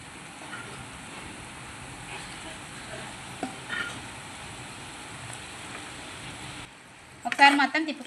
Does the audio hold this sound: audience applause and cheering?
no